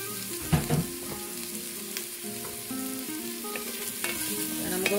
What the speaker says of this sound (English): now I'm going to go in with my diced potatoes